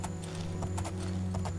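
Horse hooves clip-clop in a steady, unhurried rhythm in the video game Oblivion, with distinct close hoofbeats over a constant droning game background and no talking.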